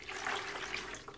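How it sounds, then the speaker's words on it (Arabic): Half a litre of water pours steadily into a container in a home kitchen as the first step of making soap from used cooking oil, a continuous splashing rush at close range with no voices. "فانا هنا هنزل بالميه الاول"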